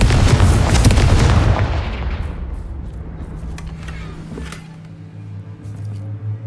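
A Confringo blasting spell detonating in the Hogwarts Legacy video game: a loud, roaring explosion at the start that slowly fades into a long rumbling decay, leaving a low hum and faint scattered sounds.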